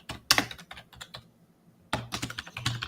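Fast typing on a computer keyboard, close and clear: a quick flurry of key clicks, a short pause, then another rapid burst.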